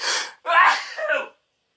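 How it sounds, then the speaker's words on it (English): A breathy intake followed by a loud, forceful sneeze burst and a trailing exhale, close and unaccompanied by speech. "Oh, I'm going to sneeze in a bad way."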